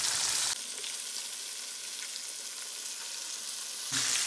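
Steady, dense sizzling of KFC-style chicken frying in hot oil, close and continuous, with a brief quieter stretch in the middle and no voices.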